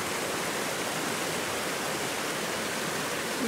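A waterfall in Connecticut roars as a dense, steady wash of falling water, loud and close, with no other sounds breaking through.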